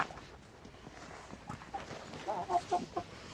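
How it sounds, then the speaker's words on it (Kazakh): Several village chickens, a rooster and a hen, cluck softly in short bursts, with a few sharper calls toward the end over faint background noise. "Біреу әтеш, біреу тауық."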